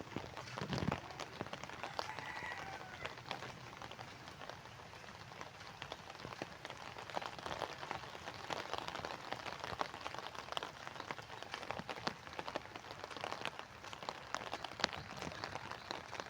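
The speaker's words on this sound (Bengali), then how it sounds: "আজ থেকে বৃষ্টি ঝরছে" Rain falls steadily on an empty street on a morning walk, a soft, dense patter of drops with faint splashes and quiet footsteps.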